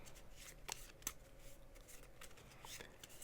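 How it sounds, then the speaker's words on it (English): Deck of cards being shuffled for a Star Wars The Clone Wars board game: quiet, close riffling and soft slaps of cards in short bursts, faint and steady over a low room hum. "And we need to shuffle his deck"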